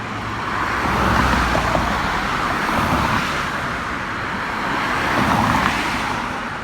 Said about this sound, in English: the east and westbound traffic just got the green light